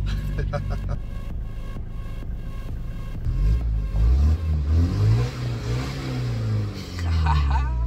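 A car engine revs loudly and close by, its deep rising and falling drone swelling in the second half. Talk is heard over it.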